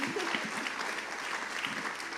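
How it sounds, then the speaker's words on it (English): Audience applause at a symposium on compassion in Chicago, a soft, fairly distant patter of clapping that continues steadily, with a faint murmur of voices beneath. "Can we have a round of applause for that?"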